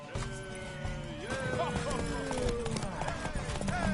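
Hooves pound in a quick galloping clip-clop during a horse race in The Witcher 3, with a whinny and tonal game sounds layered over the drumming. The hoofbeats stay close and continuous while a voice calls out over them.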